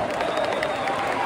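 Football crowd at the Linfield v Glentoran Belfast derby in the Irish League, a steady dense roar of fans cheering and clapping, distant and continuous with voices mixed into the wash of noise.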